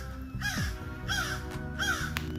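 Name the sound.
crow cawing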